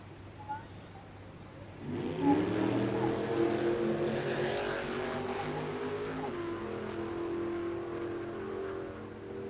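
A drag racing car launches and accelerates hard down the strip at Willowbank Raceway, its engine roar rising after a quieter idle and staying loud and close for several seconds.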